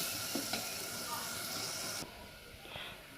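Spices and green banana (plantain) curry sizzle and hiss in oil with a little water, a steady broadband frying sound that drops abruptly quieter partway through, with faint stirring clicks.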